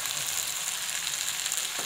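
Keema sizzles in hot oil in a karahi during the bhuna stage, once the oil has separated. A steady, dense frying hiss runs close and loud throughout, with no talking.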